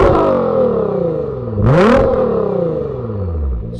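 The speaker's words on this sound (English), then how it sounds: "I do have an Army Tricks catback exhaust, which does sound phenomenal. So let's do a few quick sound clips of this right now." A 2019 Nissan GTR with an Armytrix catback exhaust revs loudly at close range, rising sharply through one quick throttle blip and then falling back toward a deep idle.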